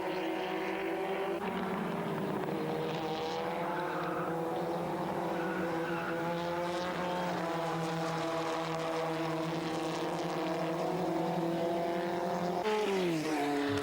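Formula Ford race cars at Goldfields Raceway, including a Reynard, with high-pitched engines wailing and shifting as they pass at a distance, a continuous steady drone with rising and falling pitch.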